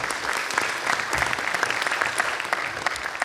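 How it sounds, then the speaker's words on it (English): Applause from the audience at a town hall, steady and dense for a few seconds, many hands clapping at moderate loudness with no clear pauses. "Yes, a round of applause."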